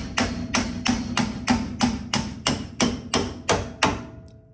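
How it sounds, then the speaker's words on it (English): A hammer strikes a splitting fork into a lower ball joint on a Forward Look era car's suspension, ringing out as eleven evenly spaced, loud metallic blows in a steady rhythm with no talk. "We're just going to work the splitting fork in here."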